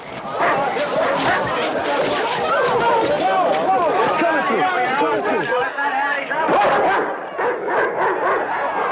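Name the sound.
dogs barking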